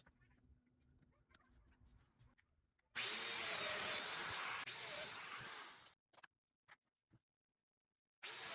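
A domino joiner cuts into wood for a trestle bench in one loud, close burst of about three seconds. It is followed by short clicks and a second start at the end, with quiet handling noises before the cut.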